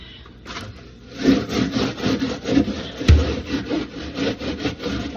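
A scrubber rubs rhythmically inside a fridge in quick back-and-forth strokes, close and moderately loud, with one sharp knock partway through.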